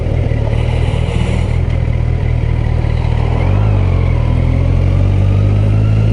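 Kawasaki Versys 1000 SE 2021 Grand Tourer four-cylinder engine running smoothly and close, a loud steady hum that rises slightly in pitch toward the end, no talking.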